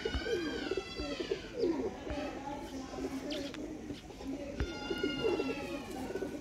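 Sialkoti Sheikh pigeons coo in soft, repeated rolling phrases, overlapping with other bird chirps and calls throughout at a steady, close-up level.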